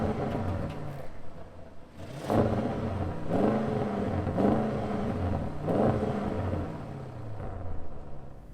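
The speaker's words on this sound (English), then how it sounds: "But now it's time to hop inside, rev it up." Engine of a 2021 Audi RS6 Avant revving while parked, a deep rumbling idle broken by four sharp throttle blips that rise and fall in quick succession, loud and close.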